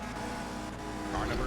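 Engines of a tight pack of race cars in the Indianapolis 500 Evolution video game, at a 1965 Langhorne 100 race, roar together in a steady buzzing drone that swells near the end, with a voice talking over it.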